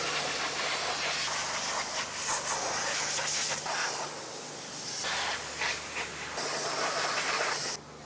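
Compressed air hisses steadily from a pump hose as it fills the tyres of a freshly washed scooter, a continuous loud broadband rush with brief pauses and shifts in pressure, heard alone without talk.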